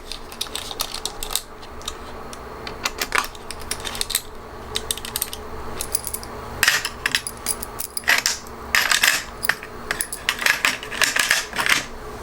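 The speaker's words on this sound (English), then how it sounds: "I'm just going to tighten up the screws." Screws are tightened into a laptop during an upgrade, giving close, crisp bursts of small clicks and ratcheting ticks that come in irregular clusters and grow busier toward the end.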